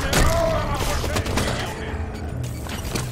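Gunfire and a grenade explosion in the video game Halo 5: Guardians, with loud, dense bursts of shots and a booming blast up front, followed by scattered further shots.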